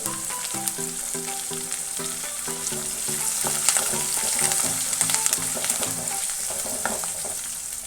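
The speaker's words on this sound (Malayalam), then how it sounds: "പച്ചമുളക് ഇട്ട് കൊടുത്തിട്ടുണ്ട് ഇതൊന്ന് വാട്ടിയെടുക്കണം അതുപോലെ കുറച്ച് കറിവേപ്പില ഇട്ട് കൊടുക്കുന്നുണ്ട്" Green chillies and curry leaves fry in hot oil in a pan while a chicken pickle is being made, giving a loud, continuous sizzle with stirring scrapes throughout and no voices.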